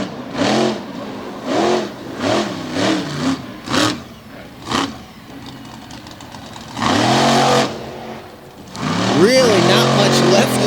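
A monster truck engine revs and roars on a racing-lane track at a speedway, rising in repeated surging bursts with rough idling between, as an announcer talks over the noise.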